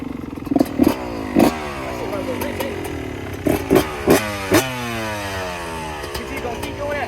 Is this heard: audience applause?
no